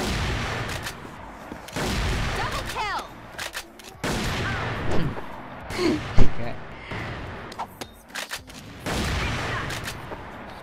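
A Dragunov sniper rifle fires in the shooter game CrossFire, several sharp, loud blasts spaced a few seconds apart, mixed with other in-game effects and clatter.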